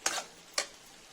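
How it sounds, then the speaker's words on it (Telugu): Gobi manchurian being stirred in a pan to coat it in sauce: two short scraping, sizzling strokes about half a second apart, close and fairly quiet with no talk. "అంతా మంచిగా కలుపుకోవాలి గోబీకి పట్టేటట్టు"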